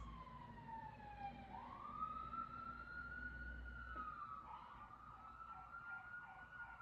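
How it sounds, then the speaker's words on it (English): A distant siren wails, its pitch sliding down and then rising and holding as it passes, over faint traffic hum. "Hold on, I'm going to let the siren pass."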